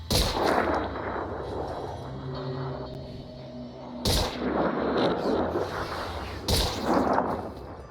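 Sniper and pistol gunfire in the Phoenix Point video game: three sharp, loud shot blasts with decaying booms, spaced a few seconds apart, over quieter game ambience with no talk.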